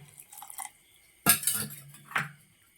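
Cold water added to spiced buttermilk in a vessel, heard as close clattering of utensils and a splashy liquid pour in short bursts with quiet gaps between.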